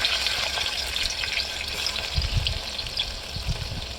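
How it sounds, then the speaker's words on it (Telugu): Onions for a mutton curry fry in a pan with a continuous bright sizzle, close and even, broken by a few soft low thumps from stirring. "ఆనియన్స్ వేసుకొని కొంచెం లైట్ బ్రౌన్ కలర్ వచ్చేంత వరకు ఫ్రై చేసుకోవాలి"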